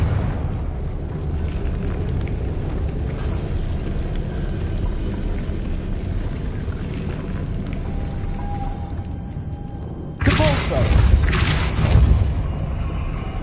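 A Confringo blasting curse explodes in Hogwarts Legacy, landing as a sudden loud booming burst near the end after a stretch of steady rumbling background sound.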